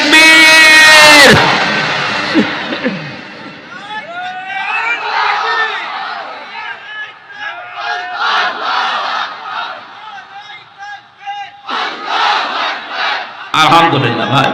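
Rally crowd roaring a takbir slogan in unison after a lone leader's call, loud massed shouting with bursts of chanting and cheering that rise and fall, near and dense.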